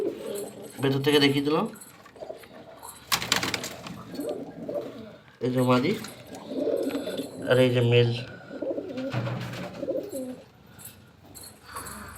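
Pigeons coo in a home loft during breeding time, a mix of Macaw-eyed and black-eyed birds, their soft repeated calls rising between stretches of close conversational speech.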